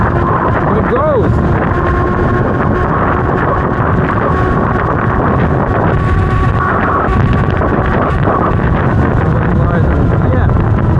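An FLJ F14 72V electric scooter at full throttle, its faint motor whine rising beneath a steady roar of wind buffeting the microphone for the whole ride.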